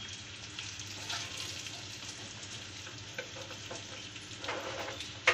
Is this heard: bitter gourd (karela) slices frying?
yes